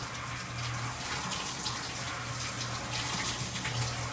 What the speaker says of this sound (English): You cannot rinse it enough.